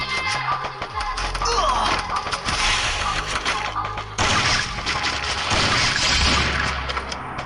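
Rapid gunshots and impact sounds from a video game match ring out loudly and continuously, layered with dense game effects and music, with a brief cut midway.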